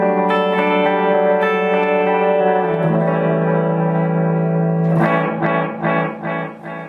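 Clean electric guitar notes ring through a TC Electronic Flashback delay pedal, each plucked chord followed by pristine, evenly fading repeats that trail off into echoes near the end.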